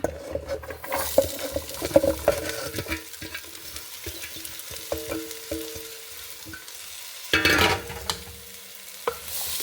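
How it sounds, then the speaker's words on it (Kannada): Onions fry in a couple of spoons of oil in a pan for onion sambar, a close, steady sizzle broken by stirring scrapes and clatter, with a louder burst of spitting near the end. "ಇದನ್ನೊಂದು ಫಸ್ಟ್ ಒಂಚೂರು ಫ್ರೈ ಮಾಡ್ಕೊಳಕ್ಕೆ ಒಂದೆರಡು ಚಮಚ ಎಣ್ಣೆ ಹಾಕೊಂಬ, ಈರುಳ್ಳಿ ಇದಕ್ಕೆ ಹಾಕೊಂಬ"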